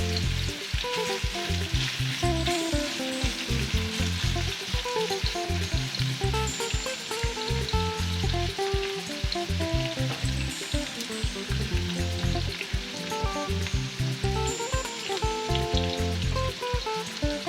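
Beef pieces frying in hot oil for a stew, a dense, steady crackling sizzle with popping spatter throughout, loud and close with no voices.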